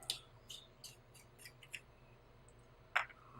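Scissors snipping fly tying material at a tying bench, several crisp close cuts spaced through the first half followed by one louder snip near the end, in an otherwise quiet room.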